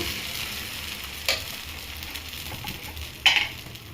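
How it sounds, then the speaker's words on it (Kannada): Thin dosa batter sizzles steadily on a hot home pan, a close continuous frying hiss with two brief sharper scrapes or taps over it. "ನೋಡಿ ಇವಾಗ ನಾನು ದೋಸೆ ಹಾಕ್ತಾ ಇದ್ದೀನಿ"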